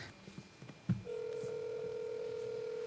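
A few soft clicks and a beep, then a steady telephone tone hums continuously, quiet and close.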